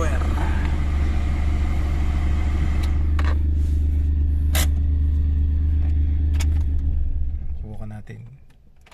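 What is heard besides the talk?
Suzuki Alto engine cranking and starting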